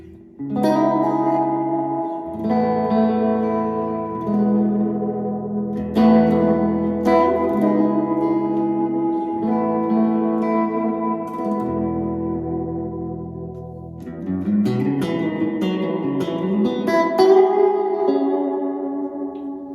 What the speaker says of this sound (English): it sounds like an old spring reverb